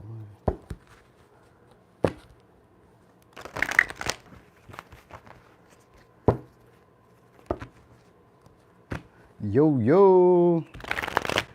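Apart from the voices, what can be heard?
shuffling cards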